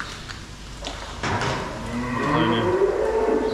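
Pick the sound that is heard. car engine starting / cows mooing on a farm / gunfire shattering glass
cows mooing on a farm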